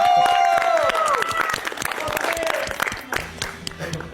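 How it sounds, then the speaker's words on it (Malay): Applause for the final contestant of a talent show, a crowd clapping under loud music and a host's voice, the clapping fading as the music carries on. "Berikan tepuk tangan untuk talent terakhir kita."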